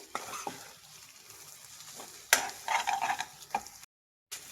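Egg and grated coconut fry in a pan while a spoon stirs them, giving a low sizzle broken by sharp scraping strokes and clatters against the pan, then a brief silence before stirring resumes; no one speaks.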